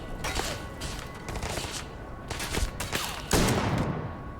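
Gunfire crackles in the video game Starfield, several sharp bursts and volleys at uneven intervals, fairly loud, with the last blast the heaviest and no talking over it.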